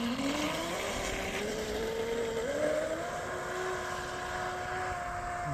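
A Proboat Impulse 32 RC boat fitted with an RC Boat Bitz Stage 2 propeller speeds across the water, its electric motor whine climbing steadily in pitch as it accelerates, loud and continuous.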